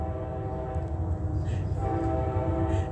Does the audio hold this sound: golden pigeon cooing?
no